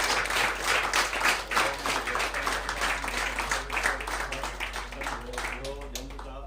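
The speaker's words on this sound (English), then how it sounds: "With a huge round of applause." Audience applause at a conference, a brisk patter of many hands clapping that continues steadily, with voices speaking over it toward the end.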